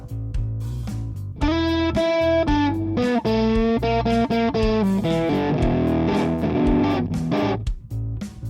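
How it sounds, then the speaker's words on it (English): A heavily distorted electric guitar plays chords and riffs, loud and saturated with a gritty, fuzzy crunch, no voices. "That should be loads to get the distortion we're looking for."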